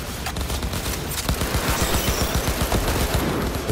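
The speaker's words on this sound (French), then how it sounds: "Tire sur les plans d'extraction." Gunfire in the Cyberpunk 2077 Phantom Liberty video game on PS5: loud, rapid bursts of automatic shots in a dense, continuous volley with no talking.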